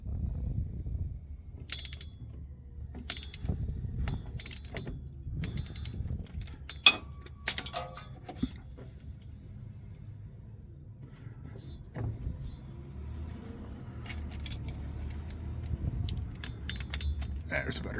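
A wrench works the last bolt loose from the front driveshaft of a 2001 Ford Expedition with faint metallic clicks and ratcheting taps, close but quiet over a low background hum, while someone talks.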